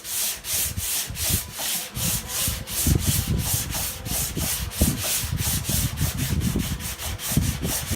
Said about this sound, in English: 80 on a spongy block. We're doing our 3rd go at 80 grit.